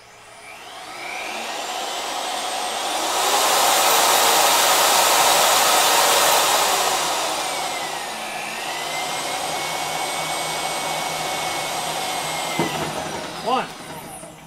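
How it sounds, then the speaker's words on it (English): A step drill bit boring a 3/8 inch hole during a tail light install on a 2005 Jeep Wrangler: a high power-tool whine that rises, holds, dips and steadies over about fifteen seconds, with a few brief knocks near the end. "So let's see how I do with stepper bits."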